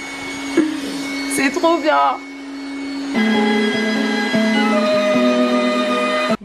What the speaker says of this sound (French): après avoir testé mon petit aspirateur